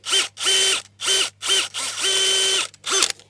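Powered auger bores planting holes six inches deep in garden soil for stargazer lily bulbs. Six or seven close, loud whirring bursts start and stop with short pauses between them.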